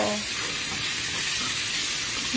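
Noodle soup boiling in a pot, a steady broadband hiss and bubbling simmer that stays loud and even throughout with no talking.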